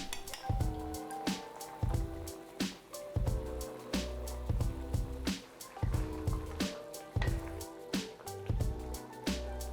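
Soup for Sichuan boiled beef simmers quietly as cornstarch water is stirred in, with soft rhythmic squishes, drips and light clinks of a utensil repeating at a steady pace.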